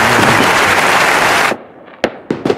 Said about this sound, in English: Edit some fireworks with that, please.